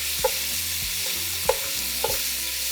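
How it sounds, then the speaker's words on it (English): Ribs sear in a pot for pozole blanco with a continuous close sizzle, broken by three sharp clinks or scrapes as the pieces are flipped. "lastly, we're going to brown our ribs."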